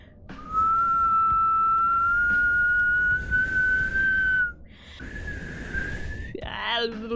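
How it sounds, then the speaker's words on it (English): A person whistles a long, steady rising tone into a microphone while playing the video game One Hand Clapping, then a second brief whistle after a pause, close and loud with some room noise beneath. "Maybe I should just whistle."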